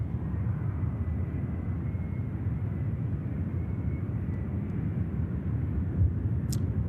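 An Ethiopian Airlines Airbus A350-900 lands at Manchester Airport, heard as a steady, moderate low rumble of jet engines held evenly throughout with no talk over it.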